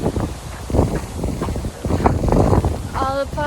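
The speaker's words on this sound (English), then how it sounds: "Windy today." Gusty wind buffets an outdoor microphone with a continuous low rumble that surges and eases, along with broadband whooshing and a short tonal sound near the end.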